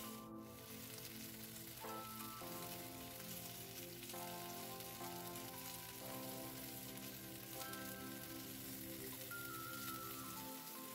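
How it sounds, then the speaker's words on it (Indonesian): Chicken pieces for Indonesian ayam bakar kalasan being turned and grilled again on a stovetop, giving a steady, dense sizzle and crackle that runs unbroken throughout, with a low tonal hum beneath. "Ini dibalik, kita panggang kembali sampai kedua sisinya matang."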